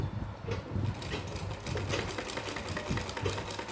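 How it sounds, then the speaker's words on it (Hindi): Sewing machine stitching a line of lace onto a small doll's fancy dress, a steady fast mechanical whir with a rapid needle rhythm running continuously throughout, close and fairly loud. "अब लेस के ऊपर साइड भी एक सिलाई लगा देंगे इस तरह से।"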